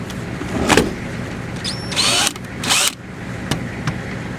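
A small DeWalt power drill driving a Warn drill winch whirs in short bursts, a few seconds of high-pitched spinning with pauses and mechanical clicks between, close and fairly loud.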